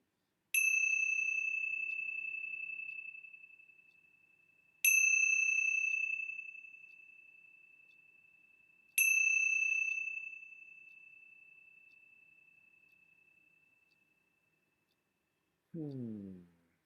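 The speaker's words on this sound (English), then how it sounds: "let's begin our time together with the ringing of the bell" A bell is struck three times in a calm gathering, each strike a clear, bright ring that decays slowly over about four seconds, followed at the end by a short low voice.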